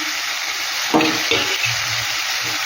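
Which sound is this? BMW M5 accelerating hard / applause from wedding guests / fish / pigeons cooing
fish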